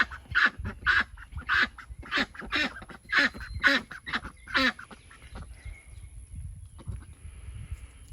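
Backyard ducks give a close, loud run of about eight rhythmic quacks in steady succession, then fall quiet except for faint softer calls.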